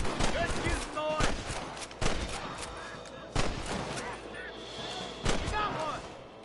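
Several sharp gunshots crack out at intervals of one to two seconds during a shootout at Pike's Basin in the Western video game Red Dead Redemption, with people talking in between.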